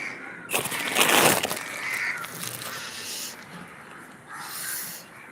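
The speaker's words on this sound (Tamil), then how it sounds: "ஒரு காக்கா வந்துருச்சா" A crow caws a few times outdoors, fairly close, with a harsh burst early on and another call near the end over background hiss.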